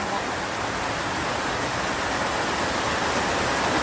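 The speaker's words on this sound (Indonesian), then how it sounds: "Kejebak hujan." Steady, dense rain pours down in a continuous broadband hiss at constant loudness throughout, with no voices or other sounds.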